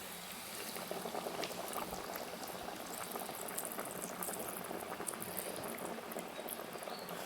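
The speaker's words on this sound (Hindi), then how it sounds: "और ये तमाम जिंगर की कोटिंग हो गई है और अब मैं इसको फ्राई करने लगा हूँ" Zinger-coated chicken pieces deep-frying in oil, a dense, even bubbling hiss with fine crackle on top, faint and constant from start to finish, with no speech.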